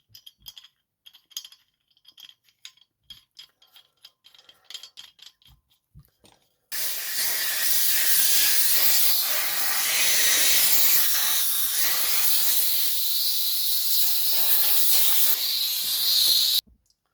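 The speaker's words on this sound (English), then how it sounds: "But first of all, we're going to degas it." A steady, loud hiss of compressed air rushes out of an FX air rifle bottle being degassed through a tool. The blast lasts about ten seconds and is preceded by quiet clicks and handling.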